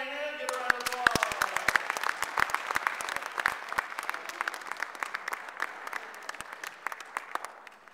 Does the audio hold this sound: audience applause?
yes